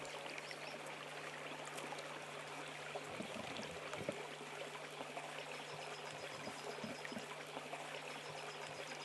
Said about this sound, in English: A stream near Tundu.